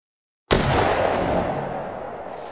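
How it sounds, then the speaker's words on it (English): Musket volley fire in Mount and Blade 2 Bannerlord, a sudden loud massed discharge of many guns at once followed by a long rolling, fading roar, with no speech. "Volley fire all standing."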